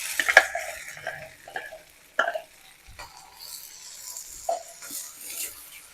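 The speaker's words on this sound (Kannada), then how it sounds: "ಈರುಳ್ಳಿ ಟೊಮ್ಯಾಟೊ ಪೇಸ್ಟ್ ಹಾಕೊಳ್ಳೋಣ" Onion and tomato paste going into a pan for a restaurant-style kaju masala curry, with a soft sizzle and a few clinks of a spoon stirring against the metal over several seconds.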